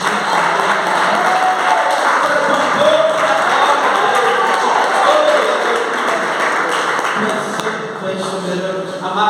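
A church congregation applauds during a worship service, a dense, sustained wash of clapping and crowd noise that carries on loudly for several seconds before easing slightly near the end.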